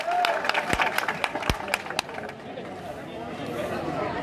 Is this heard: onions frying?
no